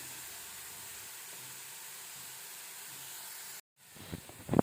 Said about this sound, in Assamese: এতিয়া আমি স্কোৱাছখিনি ভালদৰে অকণমান দেৰি ভাজি ল'ম